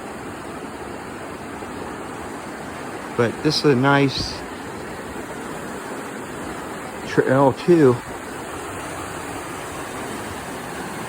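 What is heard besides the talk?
Metolius River water flowing beside the trail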